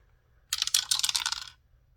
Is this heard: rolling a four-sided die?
yes